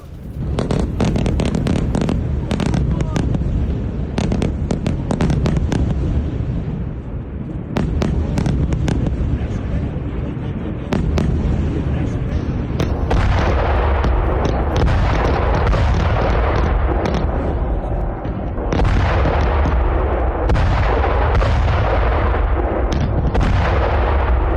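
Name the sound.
explosions from Israeli bombing in Beirut at night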